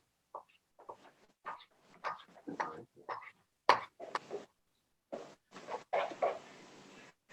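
Dough is stirred in a bowl with a spoon, making short, wet, sticky squelches and slaps in irregular bursts, close and fairly quiet.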